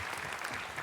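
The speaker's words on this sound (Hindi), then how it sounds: "ताली बजाइए इनके लिए।" Audience applause at a spiritual talk on positive thinking, a dense steady clapping that fills the whole brief moment, moderately loud with no talk over it.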